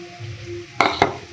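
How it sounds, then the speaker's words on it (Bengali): Onion and vegetable stalks fry together in a pan with a steady soft sizzle, broken by two quick scraping clinks of a spoon stirring against the metal. "পেঁয়াজ আর ডাঁটাগুলো একসঙ্গে ভেজে নেব"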